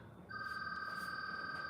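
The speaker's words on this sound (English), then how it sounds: "That's my phone." A mobile phone rings nearby during resin crafting work, a steady electronic ring tone that starts abruptly and keeps going, fairly loud against a quiet room.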